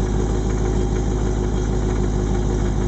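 C6 Corvette with a failing torque tube bearing, a constant loud low idle drone carrying a steady vibrating hum, close by and uninterrupted.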